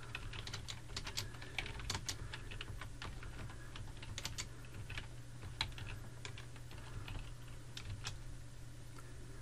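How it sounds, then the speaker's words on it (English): Keys clatter on a PC computer keyboard as a question is typed in, a steady stream of quick, light taps close by over a low constant hum, with no voices. "you want to type in your question."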